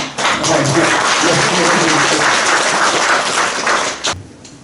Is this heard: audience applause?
yes